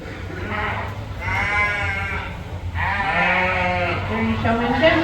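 Sheep bleat repeatedly at a 4H sheep show during showmanship judging, with wavering bleats close by over a steady crowd murmur and livestock-barn bustle.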